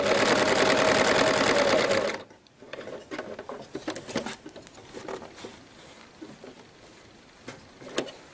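A sewing machine stitches a tunic shirt in a short, rapid, loud whirring run of about two seconds, then stops, followed by quiet fabric handling and small clicks.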